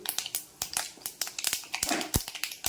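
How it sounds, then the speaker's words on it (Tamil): Mustard seeds, cumin and fenugreek spluttering in hot sesame oil, a steady run of sharp close pops and crackles at an uneven rhythm. "கொஞ்சம் சீரகம், 2 வெந்தயம் எல்லாம் போட்டு பொரியுது."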